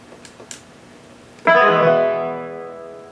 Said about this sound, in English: we're going to go to the next patch, which is number 34, which is a bouzouki